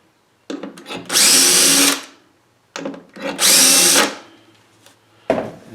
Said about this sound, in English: And get the second two screws in.